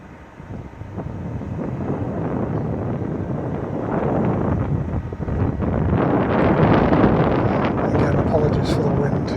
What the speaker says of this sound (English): apologies for the wind, it is quite windy up here today